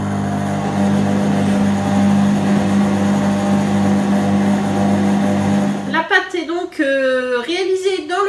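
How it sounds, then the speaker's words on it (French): A kitchen robot mixes tart dough at speed 2 with a steady, loud motor hum for about six seconds, then stops as a voice starts talking. "ensuite le robot va tourner 2 minutes en vitesse 2"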